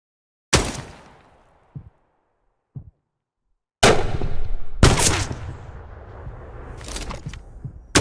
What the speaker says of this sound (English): Sounds like a pretty heavy weapon that's being fired towards us